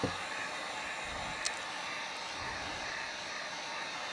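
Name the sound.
heat gun blowing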